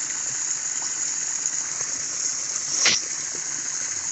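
Water jets and splashes steadily at cattle out in the open, a continuous hiss with one brief sharper burst near the end and faint movement underneath.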